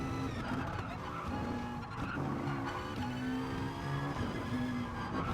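A race car in Gran Turismo Sport lapping the Nordschleife, its engine droning steadily and loud with shifting whine, overlaid by repeated short tire squeals and skids through corners, with no gaps.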